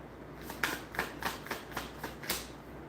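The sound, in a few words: shuffling tarot cards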